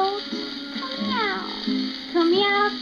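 A singer imitates cat meows in a 1950s-style song, drawn-out sliding meow calls alternating with sung phrases over orchestral accompaniment, close and clear.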